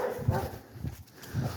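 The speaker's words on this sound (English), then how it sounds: "you're supposed to be barky, dog" A dog gives a few soft, muffled barks in short bursts, fairly faint and close, with no talk over them.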